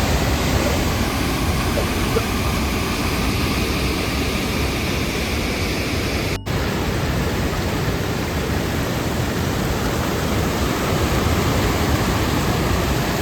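A huge waterfall in a Swedish forest, its foaming water producing a steady, loud, close roar of broadband rushing noise throughout, with a brief dropout partway through and no voices.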